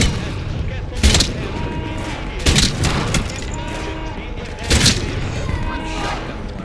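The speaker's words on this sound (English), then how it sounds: "Shotgun blast." Shotgun blasts in the video game Atomfall ring out three times, loud booming reports spaced about two seconds apart over background game ambience and voices.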